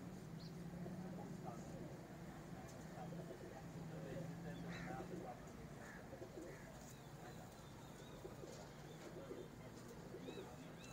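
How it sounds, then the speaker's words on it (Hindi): Soft pigeon cooing repeats at a distance over a low, steady background murmur, with faint chirps scattered through. "ये सेबे वाला कबूतर है"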